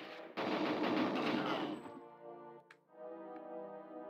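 Automatic shotgun fire in GoldenEye 007, a rapid continuous burst of blasts for about a second and a half, then fading into tonal game music and effects, no voices.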